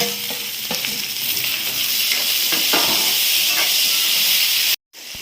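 Tomatoes hit hot frying onions in a pan for a Telugu home-style minapa vodiyalu curry, giving a steady loud sizzle and hiss with a few stirring scrapes, cutting out abruptly near the end.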